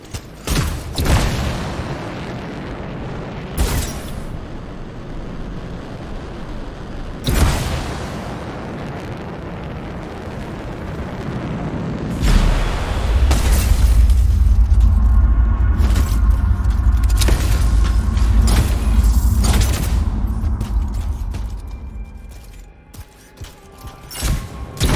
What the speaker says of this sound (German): Und das waren wir? Mit der Explosion?